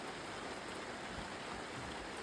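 Steady rain falls during a hike, a continuous broadband hiss without a break, soft and even with no voices over it.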